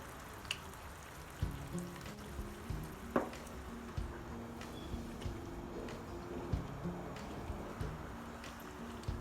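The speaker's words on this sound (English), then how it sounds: "So I'll leave this to keep frying." Ghanaian shito with minced meat fries quietly in fish oil, giving a faint, steady sizzle broken by scattered soft pops and crackles.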